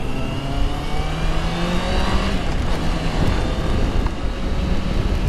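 Honda CBR 650R motorcycle pulling away on a rainy road, a steady engine drone climbing through the gears with rising and falling pitch, close and loud under heavy wind buffeting.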